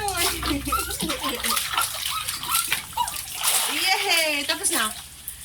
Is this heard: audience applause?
no